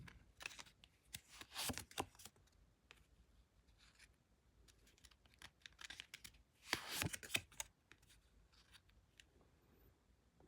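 Tarot cards drawn and slid from a deck during a reading: soft, scattered shuffles and papery flicks, close and faint, with two fuller bursts of card handling and no voice.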